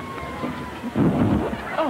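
A voice rumbles and hisses in imitation of a storm, mimicking thunder and rain in a short, close burst.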